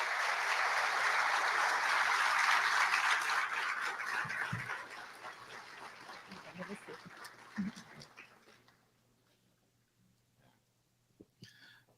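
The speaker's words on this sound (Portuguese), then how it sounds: "Uma salva de palmas, gente." Audience applause for a lecturer at a spiritist conference in Dourados: a dense, steady ovation for about eight seconds that thins into scattered claps and fades to near silence.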